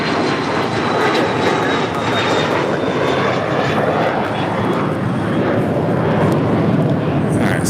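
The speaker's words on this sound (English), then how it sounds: "So that is Cathay Pacific, Flight 885, heading back to Hong Kong in this 777-300ER." Cathay Pacific Boeing 777-300ER jet at LAX, a loud continuous roar of jet engines with a broad rumbling wash that holds steady throughout, no talking over it.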